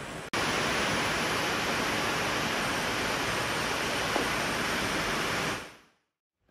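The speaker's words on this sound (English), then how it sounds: "It's pouring, so." Steady, dense roar of heavy monsoon rain pouring down, loud and continuous for several seconds with no talk, then cutting off abruptly into silence.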